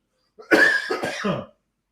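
A single throaty cough or throat-clearing burst, close and fairly loud, lasting about a second with rough breathy texture, then silence.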